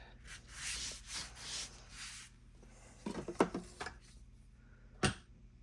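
Paper is rubbed and pressed flat by hand during a craft junk journal project, giving soft, scratchy sweeping strokes followed by a few sharper rustles and taps, faint and close with no speech.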